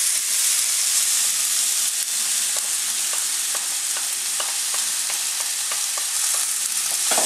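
Chopped garlic and onion fry with butternut squash in a pan, giving a loud, constant sizzle and hiss broken by regular scraping stirs.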